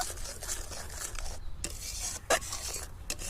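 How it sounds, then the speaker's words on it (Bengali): Jaggery for raw mango preserve boils in a pan over strong heat, a steady close bubbling hiss with brief scraping clinks of a utensil against the pan, no talking. "গুড়টিকে আমি খুব জাল দিয়ে খুব ভালোভাবে ফুটিয়ে নেব"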